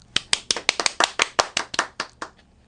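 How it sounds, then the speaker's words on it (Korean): Applause breaks out after a father finishes speaking at a home church group meeting, a dozen or so sharp, close hand claps in an uneven rhythm lasting a couple of seconds before fading out. "아빠의 말이 끝나자 큰 박수가 이어졌습니다."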